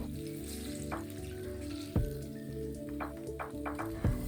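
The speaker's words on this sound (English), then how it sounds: "Continue frying the rest." Banana fritters frying in hot oil, a steady close sizzle with a few sharp crackles and pops scattered throughout, and no talking.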